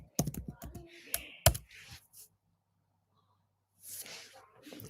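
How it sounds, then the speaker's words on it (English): Computer keyboard typing in short clustered clicks near the start and again toward the end, with a quiet gap between and a low background hum. "Let me just type values."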